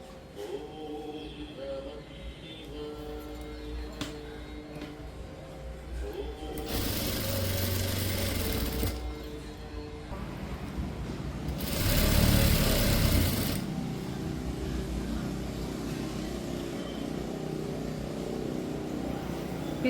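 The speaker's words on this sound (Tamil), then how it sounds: "இப்போ நான் ஸ்டிச் பண்ணுறேன்." A sewing machine stitching a blouse runs in two loud, close bursts of fast, steady whirring, separated by quieter handling sounds.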